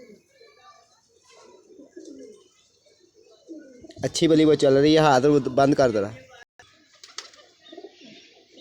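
A flying pigeon gives a loud, close, throaty coo in the middle of the clip, lasting about two seconds, while someone talks before and after it in an otherwise quiet setting.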